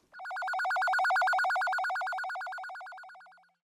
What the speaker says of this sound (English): it's just alternating back and forth between the pitches